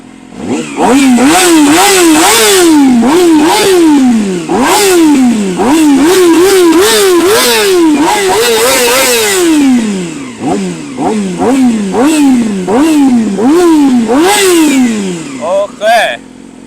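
A 2017 Yamaha YZF-R6 sport bike revved hard again and again toward high RPM, loud and close, each blip climbing and falling in a rapid sawtooth pattern before it settles near idle at the end.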